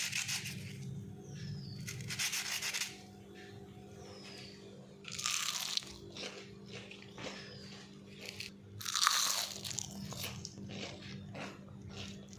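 Crispy homemade potato snacks crunch and rub together in a few short, faint bursts close to the mic, with quiet pauses and a low background hum between them.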